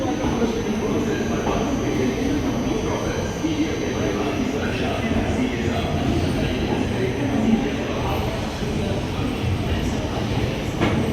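The 14118 Kalindi Express passenger train, running 13 hours late, rumbles along after leaving Prayagraj, giving a loud, continuous rolling roar with faint rhythmic rail clatter heard from inside the coach.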